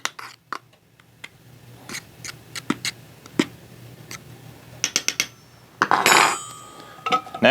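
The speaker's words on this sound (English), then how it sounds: "I use my fork here to mix it all up" A fork mixes pancake batter ingredients in a bowl at a campsite, making a run of sharp, irregular clinks and scrapes against the bowl, close and fairly loud, with a brief busier clatter near the end.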